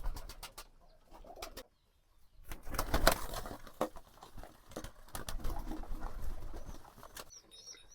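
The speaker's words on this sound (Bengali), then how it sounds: "এই যে একটা কবুতর এখান দিয়ে বেড়ে যেতে আছে" Pigeons at a backyard pigeon farm being fed, with a few short wing flaps and faint bursts of movement between quiet gaps, close by with no talk.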